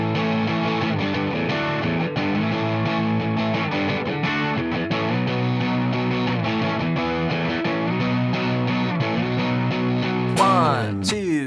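Distorted electric guitar drives through the riff at full tempo, steady and loud, with a bright pick scrape or slide right at the end.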